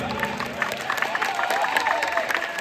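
An audience at a stage event gives loud, sustained applause, a dense crowd of clapping hands with some cheering mixed in throughout.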